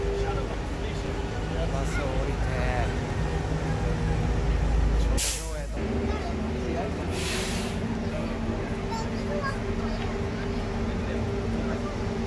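An air brake on a long-distance bus in China lets out a loud hiss in a single sharp burst, then a second release follows over steady engine rumble and road noise.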